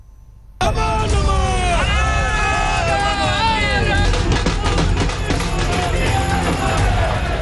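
Crowd gathered at Narendra Modi's road show in Varanasi, a loud continuous hubbub of many voices and cheering, with a commentator's voice clearly speaking over the din.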